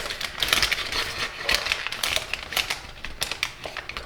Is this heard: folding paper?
yes